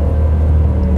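A gasoline car with a manual gearbox sits out of gear in neutral while its engine is revved, a loud, steady low rumble with a sustained drone running throughout, with no talk over it.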